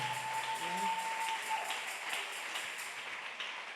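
A church congregation applauding at a French-language service, with a steady wash of clapping that holds throughout at moderate distance while a voice speaks over it.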